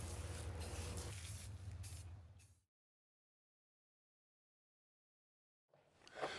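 Aerosol paint sprayed onto a homemade Quagi antenna, a steady hiss lasting a couple of seconds, then silence, then another short burst of spray starting up.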